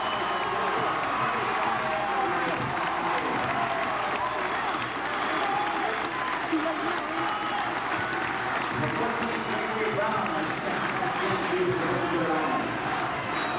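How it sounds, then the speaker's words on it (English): A loud home crowd roars and cheers continuously through a 1995 high school basketball state title game between Holy Cross and Windsor, with steady applause and shouting filling the arena and commentary voices beneath. "listen to that crowd"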